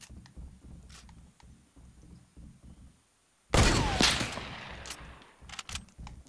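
Gunfire in the video game Fortnite, a sudden loud burst of shots that starts after a quiet stretch of low background noise, then fades over a couple of seconds into scattered softer clicks and cracks.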